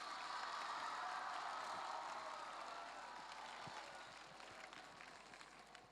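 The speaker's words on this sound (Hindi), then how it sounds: "तो आप लोगों के लिए जोर से ताली बजाओ।" A group of children in a leadership development session clap loudly together, a steady dense patter of many hands that stays strong and then tapers slightly while sustained.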